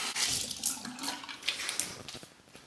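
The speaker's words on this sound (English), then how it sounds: "A final rinse to your razor and a cold water rinse on the face." A shaving razor is rinsed under a running tap, a steady rushing hiss of water with splashes and brief clicks of the razor against the stream, close and continuous with no talking.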